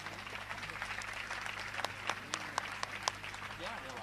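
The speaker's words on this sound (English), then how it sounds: "Give him a big clap, please." Scattered, fairly faint clapping from a small audience at a Sahaja meditation course session, applauding a singer, with sharp individual claps standing out over a low room hum.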